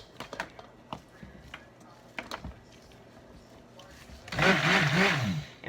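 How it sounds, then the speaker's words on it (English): A handheld blender whirs steadily for about a second and a half as it mixes batter for pancakes or crepes, after several sharp clatters and knocks of utensils and bowls in a home kitchen. "I'm gonna use the mixer, the hand blender to mix these"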